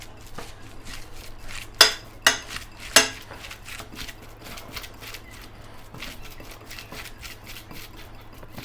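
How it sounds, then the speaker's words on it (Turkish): Minced meat mixture for eggplant börek being kneaded by hand, giving soft, repeated squelching and slapping with a few louder wet smacks early on, then quieter steady squishing close by. "Şimdi bunları güzelce yoğuruyoruz."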